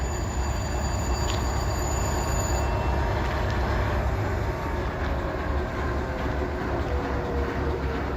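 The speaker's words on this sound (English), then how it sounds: "Locomotive shutting down." Heavy diesel locomotive rumble from a coal train's CM44 AC engine, loud and steady, with a high whine that cuts off partway through as the engine shuts down, leaving a lower drone.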